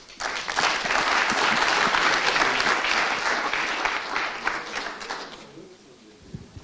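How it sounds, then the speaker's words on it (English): A large audience applauds warmly after a talk on injury in endurance sport, dense steady clapping for about five seconds before fading out. "Once again, a big round of applause to Dr. Nicola Sewry"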